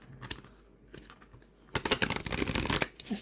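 Cards riffle and rattle in quick, crisp bursts, quiet at first then louder and busier, close by with no talking.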